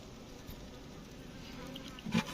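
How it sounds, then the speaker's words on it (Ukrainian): Honeybees hum steadily around a single hive frame in a small nucleus colony, a soft continuous buzz with a few louder bees passing close near the end. "Джилки працюють гарно, маточка сіє теж."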